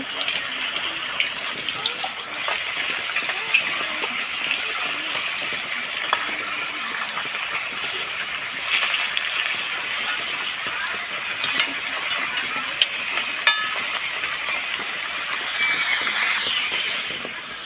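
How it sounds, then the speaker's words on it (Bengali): Elephant foot yam dumplings fry in hot oil in a pan and are turned over, making a steady, close sizzling hiss that runs continuously with occasional small pops and clinks. "প্রত্যেকটা এভাবে উল্টে পাল্টে ভেজে নেব"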